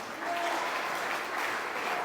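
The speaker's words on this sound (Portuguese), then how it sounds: "Alguém aplauda fortemente o nome do Senhor." A church congregation applauds loudly in the name of the Lord, a brief steady roar of many hands clapping in a reverberant hall.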